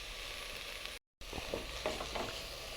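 Carrot, capsicum and cabbage with a little salt sauté in a pan, a continuous close sizzle with light scraping stirs, cut by a brief moment of silence before the frying resumes.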